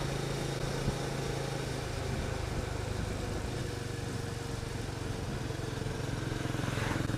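A Benelli motorcycle engine hums steadily at a constant pitch, a continuous low buzz with wind noise and no changes in speed.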